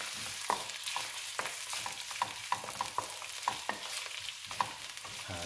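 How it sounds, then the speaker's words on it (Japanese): Eggplant pieces frying in hot oil in a pan, a soft steady sizzle broken by regular stirring scrapes and clicks, fairly quiet and close, with no voices. "ちょっと揚げる感じですね。"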